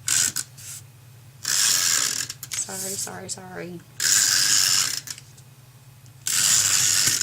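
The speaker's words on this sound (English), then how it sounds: "I'm going to use my noisy glue" Glue dispenser at a papercraft table gives loud bursts of harsh ratcheting and hissing, three separate rounds with quiet gaps between, and a voice briefly speaks in the middle.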